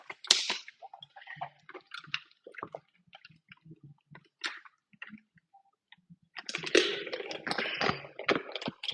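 A person drinks water, with soft gulping, sipping and squishing mouth sounds scattered through a quiet stretch, then a louder burst of wet swallowing and handling noise near the end.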